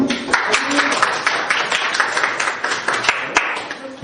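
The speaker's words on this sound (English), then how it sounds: "One applause here." Applause in a classroom during an English lesson, a few seconds of dense, close hand clapping from pupils, with some voices mixed in.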